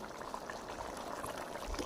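Potato and pea pulao simmers in a pot as its cooking water boils away, giving a steady close bubbling and hissing that runs on with no pause.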